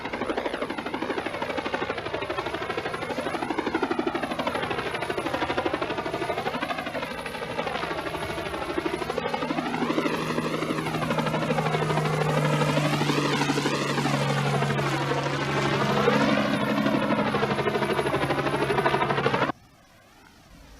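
An army helicopter flies during flood disaster relief, its rotor drone steady and loud with a slowly wavering pitch for nearly twenty seconds before stopping abruptly.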